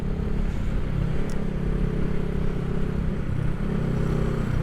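A 1975 Honda CB360T motorcycle cruises steadily at 50 in sixth gear, its engine droning evenly with wind rush throughout, recorded close and loud with no speech.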